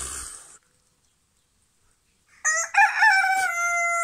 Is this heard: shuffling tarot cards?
no